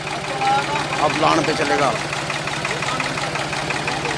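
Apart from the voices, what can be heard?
Preet 4549 tractor with Kirloskar engine running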